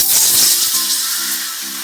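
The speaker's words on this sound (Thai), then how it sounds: "ผัดพริกแกงก่อน" Curry paste stir-fried in a hot pan for a Thai jungle curry, giving a steady, bright sizzling hiss that fades slightly over its short length, with a faint low hum beneath.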